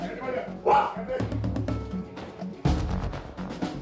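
Dogs barking and yelping indoors during a police raid in a house, a few sharp barks heard amid loud, overlapping shouting voices and commotion.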